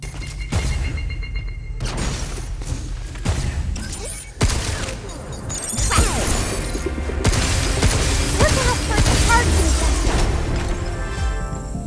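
Gunfire and combat in the sci-fi shooter Pragmata, a busy run of shots, metallic crashes and impacts, with loud bursts and mechanical whirs building to a denser, sustained barrage in the second half.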